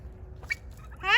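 Turkeys on a farm after a freeze let out a short gobble near the end, preceded by a brief faint call, over low background rumble.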